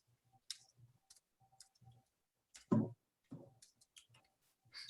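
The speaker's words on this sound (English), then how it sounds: "You hear me typing?" Keyboard keys tapped in short, irregular bursts, faint and close, with pauses between clusters of clicks and no talking over them.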